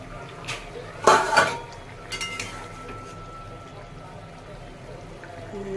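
A metal pot lid lifted off pot of boiling potatoes, a bright clanking clatter followed by a few lighter clinks and faint bubbling, with a person talking nearby.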